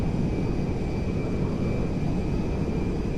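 Engines of an Airbus Beluga aircraft in GTA 5 drone steadily, a loud continuous low roar with a thin high whine on top, holding even throughout with no speech.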